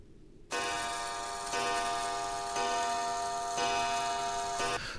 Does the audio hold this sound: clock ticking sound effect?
yes